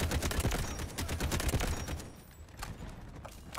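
Rapid booming artillery barrage from the video game Delta Force Hawk Ops, dense overlapping blasts pounding for a few seconds before thinning out.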